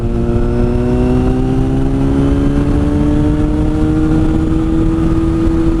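A 2009 Yamaha FZ6 motorcycle engine revs steadily at about 5,000 rpm, its pitch slowly climbing as it holds a high, constant drone, loud and close with no talking.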